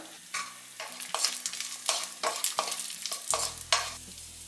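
Steady sizzling and crackling of cashews and raisins frying in hot oil, with repeated scraping and stirring strokes of a spoon in a pan, close and continuous.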